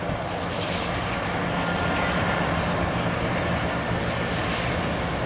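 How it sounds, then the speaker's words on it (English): A continuous loud rumbling roar of a passing train, steady and broadband throughout with no talking, near a beach campground. "That's the train that goes to San Diego."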